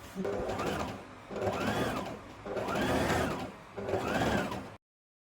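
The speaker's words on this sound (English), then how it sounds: "after joining the pocket to the front side, we will understitch the pocket side" A sewing machine understitches the pocket side of a half circle flare maxi skirt, running in four steady bursts with brief slowdowns between them, close and moderately loud with no talk.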